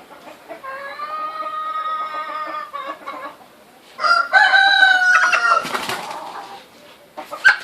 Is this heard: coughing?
no